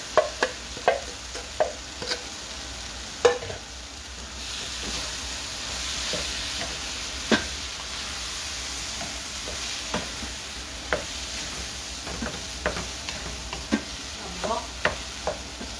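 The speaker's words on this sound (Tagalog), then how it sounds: "Butang na nato ng aton nga munggo." Mung beans sizzle in a hot pan for ginataang mongo while a utensil stirs them, giving sharp scraping clicks at an irregular rhythm over a low, continuous frying hiss.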